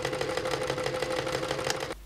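A sewing machine stitches the shoulder seams of a lined wrap jacket, a close, steady rapid whir with a regular pulse that stops abruptly at the end.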